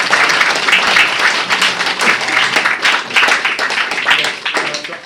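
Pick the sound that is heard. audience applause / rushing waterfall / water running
audience applause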